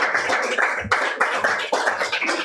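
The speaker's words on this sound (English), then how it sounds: "Okay, round of applause for all the readers." An audience applauds the readers at a poetry reading, a full room of hands clapping in a steady, dense wash with small swells, fairly close and continuous throughout.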